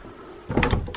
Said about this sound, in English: Whoa, that door just closed on me